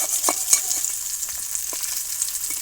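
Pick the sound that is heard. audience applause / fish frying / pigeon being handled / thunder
fish frying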